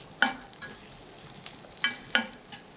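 Eggplant frying in hot oil over high heat for a spicy beef curry, heard as a soft steady sizzle broken by a few sharp clatters of stirring, close and fairly quiet.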